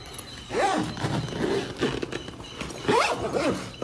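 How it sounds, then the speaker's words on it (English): A YKK zipper on a gig case bag is pulled in several quick, rasping strokes close by, each zip rising and falling in short bursts. "Zip this up again, and then we can flip the thing over."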